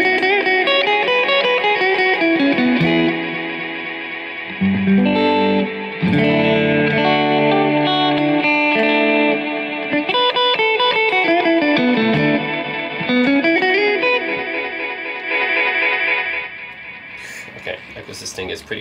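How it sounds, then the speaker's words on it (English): An electric guitar plays through a delay pedal, a Catalinbread Belle Epoch or Hermida EPH-3, with echo sustain turned up, so loud notes repeat and smear into long, swirling, distorted trails. "If I turn up the echo sustain,"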